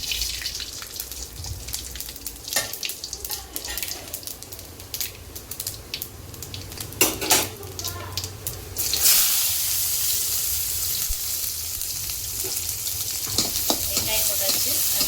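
Spices tempering in hot oil in a kadai, a steady crackling sizzle with sharp pops that swells louder partway through and stays close and busy.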